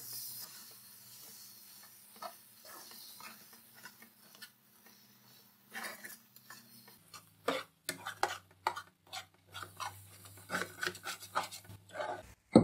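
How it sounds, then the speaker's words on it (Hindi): Wheat flour halwa stirred in a pan over a slow flame, soft scraping and rubbing strokes that grow louder and more frequent toward the end, close up with no talk. "फ्लेम हम बिल्कुल स्लो रखेंगे। अब हम मिक्स करते रहेंगे बराबर।"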